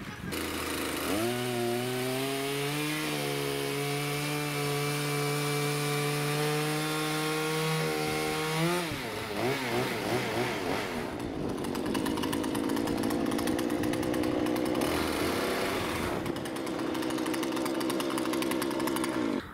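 A chainsaw cuts through wooden floor beams during hand-built timber floor framing, with a steady loud whine that drops and roars as the cut finishes, followed by continued rough sawing noise.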